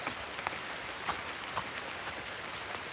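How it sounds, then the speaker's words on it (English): Rain falling outdoors on a Blue Mountain coffee farm, a steady soft hiss with scattered distinct drop taps, fairly quiet and continuous. "The rain is coming down."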